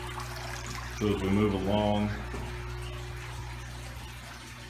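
Water pours steadily from an aquaponics pipe into a tank, a soft continuous trickle and splash heard close by beneath a man's brief speech.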